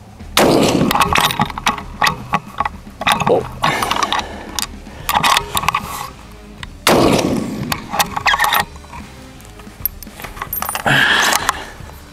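A Howa Super Lite rifle fires a series of sharp, loud shots at close range outdoors, single shots and quick pairs with pauses between them, and people talk between the reports.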